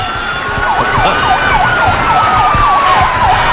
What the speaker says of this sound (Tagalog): Isang fire truck. Fire truck! Fire truck!